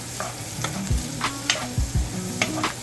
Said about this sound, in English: And give this a good stir.